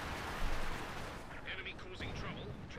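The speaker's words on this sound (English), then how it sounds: "Artillery here against the German half-track positions here" Artillery shelling in Company of Heroes 2 aimed at German half-track positions: a dense, continuous rumble of blasts and gunfire under a commentator's steady talk.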